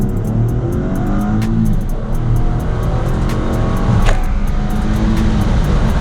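Holden VF SV6 with a 6-speed gearbox pulls hard under acceleration, engine note climbing repeatedly through shifts, loud and close from inside the car, no talking.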